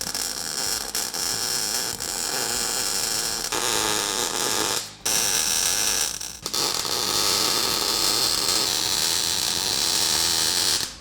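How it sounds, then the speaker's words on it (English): Welding a custom driveshaft for a Tesla-powered pickup gives a loud, continuous buzzing crackle in long runs, broken by two brief pauses. "So now we'll go do full welds."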